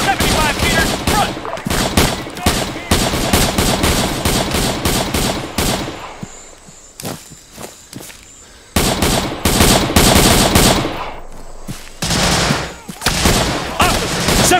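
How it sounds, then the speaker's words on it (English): Heavy automatic gunfire in the Arma 3 Vietnam War mod: long, loud sustained volleys of machine-gun and rifle fire, broken by a few brief lulls before the shooting resumes at full intensity. "Covering fire!"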